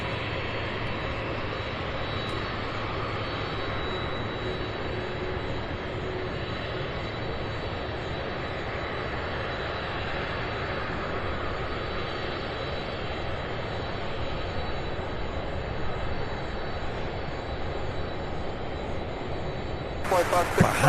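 At SDF airport, airliners taxi and push back with a steady, loud jet engine drone that holds throughout, while people talk over it.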